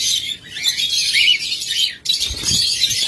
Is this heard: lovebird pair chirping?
yes